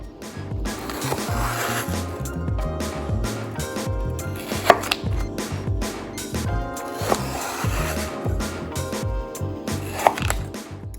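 A knife slices a block of frozen homemade flavor enhancer into cubes, giving a close, repeated series of firm chopping strokes against a cutting board at an uneven rhythm, with no talking.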